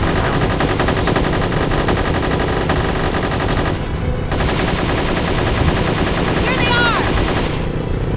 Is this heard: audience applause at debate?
no